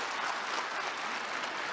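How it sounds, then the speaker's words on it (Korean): Audience applause at a ceremony for the Southern Inland Railway, a short, even burst of many hands clapping together at a moderate distance, with no talking over it. "여러분 큰 박수 보내주시죠"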